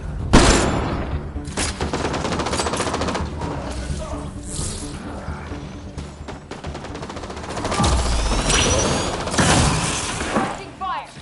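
Sustained bursts of gunfire fill a firefight in Mass Effect Andromeda, loud and dense with rapid volleys, impacts and booms layered over game sounds, while a voice speaks over the action.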